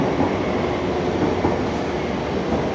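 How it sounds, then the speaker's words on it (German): An airport-bound metro train at Koropi station in Greece gives a steady loud rumble of rolling wheels and motors, close by and continuous, without speech. "So sieht die Metro aus, die zum Flughafen fährt"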